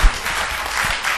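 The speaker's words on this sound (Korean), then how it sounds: "우리 찬양팀에게 감사의 박수 부탁드립니다" A church congregation applauds its praise team during an anniversary revival service, a dense wash of many hands clapping steadily through the whole brief moment.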